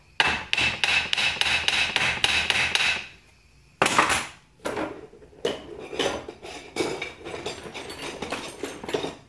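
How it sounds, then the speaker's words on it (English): Metal hammer taps on the tail housing of a T5 World Class transmission, knocking it loose from its seal: a quick run of even, ringing strikes, a brief pause, then a few irregular louder knocks and scraping clanks. "Gently tap it with a hammer to break the seal."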